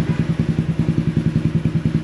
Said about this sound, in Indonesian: ini mesin udah mulai agak panas, sekarang langsamnya udah mulai agak tinggi lagi